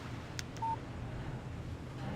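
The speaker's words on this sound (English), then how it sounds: "Text message from Barry." A short electronic phone message tone from the video game Alan Wake: a brief click followed by a single clean beep, heard alone over a low steady background hum.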